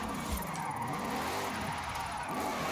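A car drifting in the video game Forza Horizon 5, with a steady engine whine that rises and falls against a continuous rushing roar of tires sliding, loud and unbroken.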